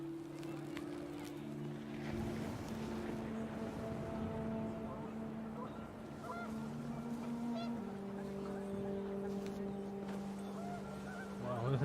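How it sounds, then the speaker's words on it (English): Panicked geese honk in a brief flurry within the video game What Remains of Edith Finch, set against a steady droning musical or ambient bed that persists throughout. "The wind picked up, and panicked geese appeared and quickly went."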